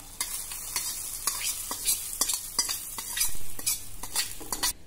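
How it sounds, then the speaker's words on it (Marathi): A sizzling tempering of turmeric and curry leaves is stirred into spinach bhaji, with repeated scraping strokes of a spoon against the pan over a continuous fry, close and fairly loud. "मिक्स करून घेऊ"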